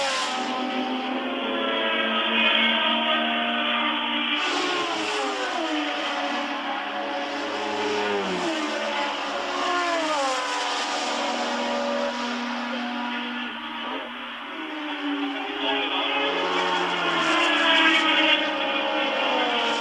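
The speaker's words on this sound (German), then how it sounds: "Der Motor von James Hunt klingt nicht mehr ganz so sauber wie in den ersten Runden dieses Grand Prix" High-pitched Formula One engines scream continuously at the 1977 German Grand Prix, revving and shifting as cars pass, loud and sustained throughout; one engine runs slightly rough.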